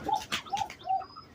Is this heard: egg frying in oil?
no